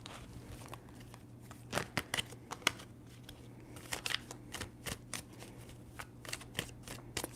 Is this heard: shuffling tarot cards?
yes